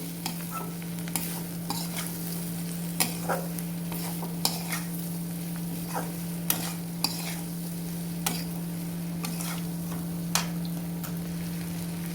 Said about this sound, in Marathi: आपण भाजून घेतलेली गवारीची शेण ती त्या मसाल्यामध्ये मिक्स करून घ्यायची